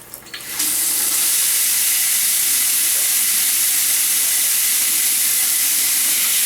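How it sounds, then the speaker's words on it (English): Hot water gushes steadily from a household faucet as the valve opens, a loud, continuous hissing rush that starts after a few brief handling clicks and holds without a break. "Now I'm going to turn the hot water on"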